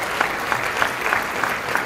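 A luncheon audience at a chamber of commerce event claps together in a steady patter, moderately loud and sustained, with no voices over it.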